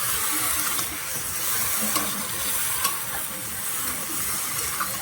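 Fish curry masala is stirred in a hot pan, a continuous scraping sizzle with steady frying hiss and no talking.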